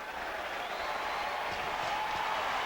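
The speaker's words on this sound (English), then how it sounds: "the crowd here at the Civic Arena enjoying it" Steady crowd noise fills the Civic Arena during a 1990 Red Wings–Penguins hockey game, a continuous roar of cheering at moderate distance with no break and no voices standing out.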